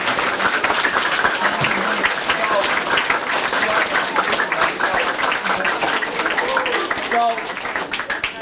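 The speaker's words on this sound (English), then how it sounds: "Can you give the speakers a round of applause?" A school civics-day audience applauds the town selectmen and school committee speakers, steady loud clapping that holds throughout with a few voices murmuring underneath.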